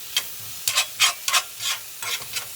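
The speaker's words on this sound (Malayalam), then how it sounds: "മൊത്തത്തിൽ ഇങ്ങനെ മിക്സ് ചെയ്ത് ചിക്കാം." Beaten egg and chopped asparagus being stirred and scrambled in a pan for a thoran: a series of short, soft scraping strokes in an uneven rhythm over a faint sizzle.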